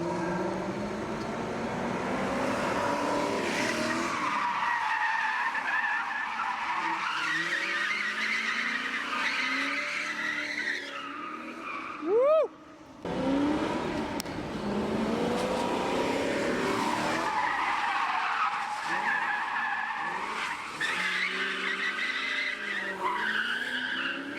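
A Lexus SC400 drifts on a wet street over two kinds of pavement, tires howling in long sustained squeals as the engine roars, with a brief pause before a second skidding run.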